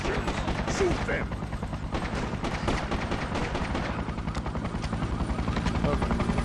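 Gunfire in a GameCube game, rapid shots crackling over a steady rotor-like drone and background music, with a voice talking faintly underneath.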